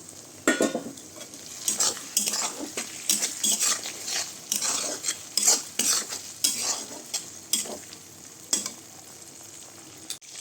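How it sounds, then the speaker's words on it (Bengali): Green chilli and tomato tossed into fried onions for a mutton curry, stirred with a metal spoon that clanks and scrapes against the pot in quick, irregular strokes over a sizzling background. "এবার আমি এর মধ্যে কাঁচা লঙ্কা আর টমেটো দিয়ে দিলাম।"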